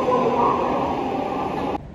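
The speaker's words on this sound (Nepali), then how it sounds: "गाइज हाम्रो ट्रेन चाहिँ आइसकेको छ होइन।" A Seoul subway train at a station, heard as a loud steady rumble and mechanical whine that cuts off abruptly near the end of the short stretch.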